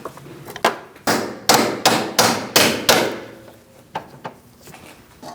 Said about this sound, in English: I'm just going to tap it through gently with my socket